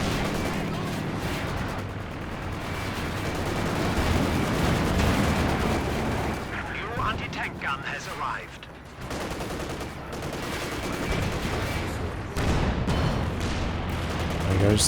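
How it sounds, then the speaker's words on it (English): Machine gun fire in the World War II strategy game Company of Heroes 2, a dense ongoing battle din of shots and distant blasts over a long stretch, with no voices over it. "There goes the machine gun"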